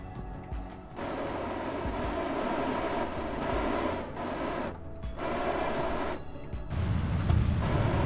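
Rocket engines throttling up in Kerbal Space Program give a sustained roar that swells and dips across several surges, dropping out briefly between bursts and thickening into a deeper rumble near the end.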